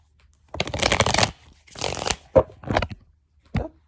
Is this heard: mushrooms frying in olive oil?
no